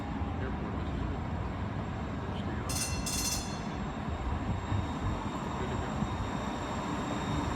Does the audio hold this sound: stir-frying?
no